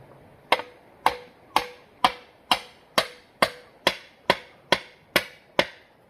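Twelve sharp metallic strikes from the solid steel pipe handle of a bolo used as a hammer in a garden, evenly spaced about every half second, close and loud with quick decay and no talking.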